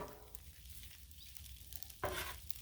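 Beef, onions, peppers and celery fry on a Blackstone griddle, sizzling quietly and steadily at close range. A sharp scrape of stirring cuts in near the end.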